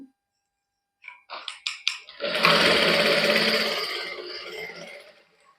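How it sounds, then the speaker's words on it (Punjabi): A sewing machine stitches a lining onto a sleeve, starting with a few short stuttering bursts and then running in one loud, steady whir for a couple of seconds before slowing to a stop. "ਐਵੇਂ ਨਾਲ ਨਾਲ ਸਲਾਈ ਲਾਈ ਜਾਵਾਂਗੇ ਇਹਦੇ"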